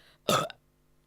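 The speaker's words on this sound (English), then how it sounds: "That burp says otherwise." A single short, close burp from an adult during a casual conversation, abrupt and fairly loud against a quiet room.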